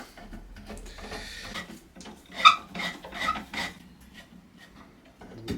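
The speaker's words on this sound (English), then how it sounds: "So I'm just going to unscrew it" A screwdriver turns the screws out of the base of an art deco nightstand, giving soft scraping and rasping twists in several short bursts, close by and fairly quiet.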